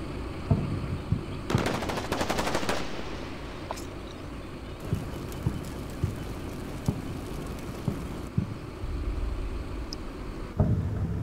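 Gunfire crackles through a firefight in the video game Combat Mission Shock Force, with a burst of rapid machine-gun fire and scattered single shots over a steady background rumble.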